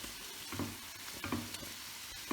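Sausage sizzles steadily in a pan for a pasta dish, a quiet continuous hiss broken by a few soft shuffles as the pieces are moved about, with no voices.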